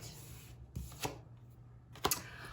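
A few brief, soft riffling bursts of tarot cards being shuffled close by, separated by short quiet gaps.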